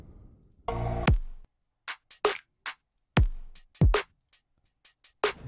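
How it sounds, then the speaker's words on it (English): Drum samples from a Native Instruments expansion construction kit: a boomy low hit followed by a string of short, punchy percussive hits in an irregular pattern, loud and dry with no talking. "So a couple of these drums. Again, these were from the construction kit."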